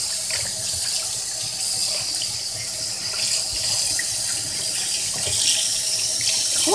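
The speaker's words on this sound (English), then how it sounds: "Put some more water in the pot" Tap water runs steadily into a pot in a kitchen sink while oxtails are being prepared, a continuous splashing gush with small bubbly fluctuations, no talk.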